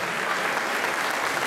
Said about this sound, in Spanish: Despidamos con un fuerte aplauso a la Orquesta Infanto-Juvenil de la Secretaría de Educación